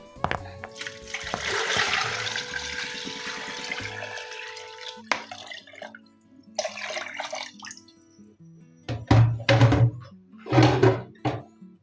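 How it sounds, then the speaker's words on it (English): Water gushes steadily into a pressure cooker for several seconds, then trickles and splashes in short bursts, close by with a hollow, vessel-like ring. "I add in enough water."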